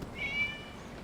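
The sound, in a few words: cat meowing in video game Genshin Impact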